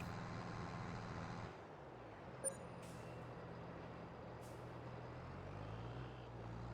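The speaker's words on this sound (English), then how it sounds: "let's see if I can back this past our new truck" In Farming Simulator 22, a truck backs up with a low engine rumble, quiet and steady, with a short hiss like an air brake partway through and the engine note shifting as it moves.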